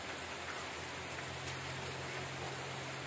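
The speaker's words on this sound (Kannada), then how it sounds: "ಬೆಳಗ್ಗೆ ಇಷ್ಟು ಮಳೆ" Heavy morning rain falling steadily in a village, an even, dense hiss with no pauses and no talk, moderately distant.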